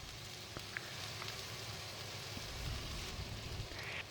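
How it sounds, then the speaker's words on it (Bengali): Onions sizzling in oil in a pan for a Bangladeshi loitta shutki bhuna, a soft, steady crackling hiss with faint pops, fairly quiet and without talk. "এখন আমি এতে পেঁয়াজ দিয়ে ভেজে নিচ্ছি।"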